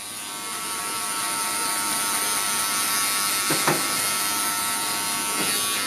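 Wahl electric hair clippers cut hair close at a barber battle, a steady bright motor buzz running without a break, with a couple of brief rasping strokes as the blades bite in.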